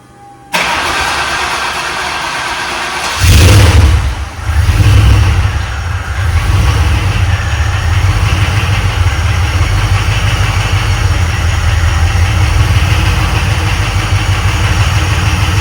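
A 1966 Ford F100 pickup with a swapped Crown Victoria V8 cranks and fires up close by, catching with a loud burst and a rev, then settling into a steady, rumbling idle.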